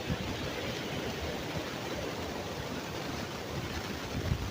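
Strong sea waves at the seaside, a steady, loud broadband roar of surf with continuous wash and no clear breaks, filling the whole stretch without any talk.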